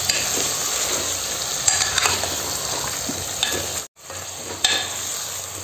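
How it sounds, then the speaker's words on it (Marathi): Chicken pieces coated in curry masala are stirred and sautéed in a hot pan, a steady sizzle broken by scraping spoon strokes and one brief pause near the end. "हे पा असं टाकून द्यायचं, वर खाली असं मस्त परतून घ्यायचं"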